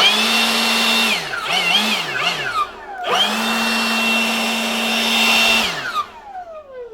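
A Milwaukee M18 FBL cordless blower whines up loudly at close range, revs up and down briefly, cuts out, then starts again and holds a steady high roar for a few seconds before spinning down.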